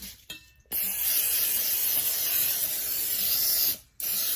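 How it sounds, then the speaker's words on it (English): A sustained aerosol spray of extra virgin olive oil onto a baking pan hisses close by for about three seconds, after a couple of brief test spurts, then a final short spritz. "I'm gonna take some extra virgin olive oil and I'm gonna spray the pan."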